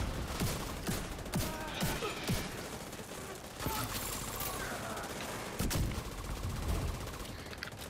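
Rapid gunfire from several weapons in The Division 2 rattles constantly through a True Sons Jefferson Plaza firefight, dense overlapping bursts and single shots, with speech mixed underneath.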